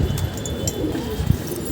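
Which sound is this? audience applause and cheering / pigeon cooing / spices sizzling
pigeon cooing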